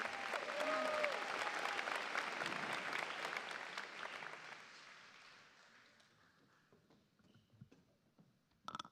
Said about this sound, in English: a round of applause for the president